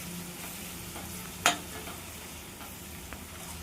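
Ginger-garlic paste is stirred into onions frying in a pan for chicken curry, a soft steady sizzle with one sharp scrape of the spoon against the pan.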